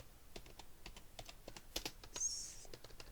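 Fingers typing a search on a computer keyboard, a quick irregular run of soft, close clicks with brief pauses, fairly quiet and without talk.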